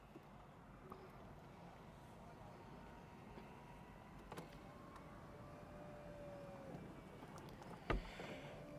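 Electric convertible roof of a 2025 MG Cyberster closing, a faint steady motor whine with a rising mechanical glide, ending in a soft latch thump against quiet background hum.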